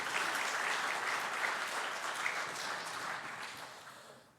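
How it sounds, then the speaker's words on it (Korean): A church congregation applauds during a Sunday worship service, a steady, dense wash of many hands clapping that holds evenly for several seconds before tapering off toward the end. "인사하실 때 박수해 주시기를 바랍니다"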